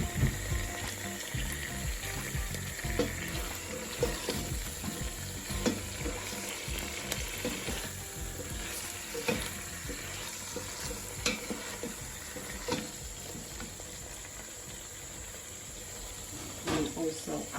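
Sweet potatoes frying in a pan, a low continuous sizzle with scattered clicks and scraping from stirring, fairly quiet throughout.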